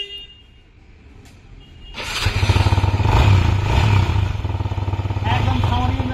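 A used motorcycle at a second-hand bike showroom starts up and settles into a loud, steady idle with a rough, throbbing engine note close by, following a quiet stretch with faint clatter.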